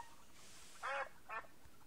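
Two short, nasal quacks from a cartoon bird in the Rubby Bird mobile game, a longer call followed by a briefer one, faint against a quiet background hiss.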